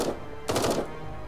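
Rifle fire in the video game Eden Star comes as a short rapid burst of several sharp shots, fairly loud against a steady background hum, then stops.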